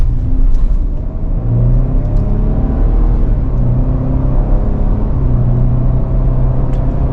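A 2024 Ford Ranger XLT 4x4 pickup with a 2.7-liter V6 and ten-speed automatic pulls away, a loud low engine rumble rising through gear changes, heard from inside the cab.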